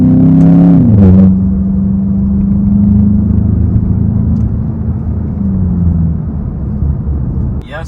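A 2024 Volkswagen Jetta GLI MK7.5 with a 4-cylinder engine and manual shifting drones loudly from inside the cabin. The engine note drops at a gear change, then settles into a steady cruising hum.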